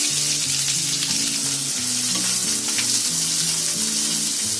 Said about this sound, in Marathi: पहिला मी कांदा भाजून घेते.